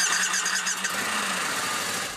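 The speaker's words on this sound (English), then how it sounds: "We go into a lot of trouble to protect the sound of the motorcycle because Harley has a legendary sound." A Harley-Davidson motorcycle engine cranks and catches, a loud close mechanical churn with a high squeal that settles into a steady running drone before fading slightly at the end.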